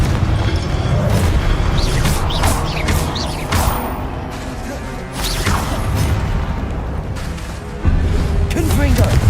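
Confringo fire spells exploding in the Hogwarts Legacy video game, deep booms and crashing blasts with whooshes over a dense, loud battle din, with a voice shouting over the action.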